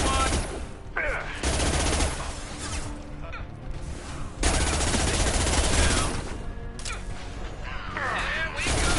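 Rapid gunfire bursts and impacts from a Mass Effect firefight, loud and dense through most of the clip, with brief whooshes and crashes and someone shouting over the shooting.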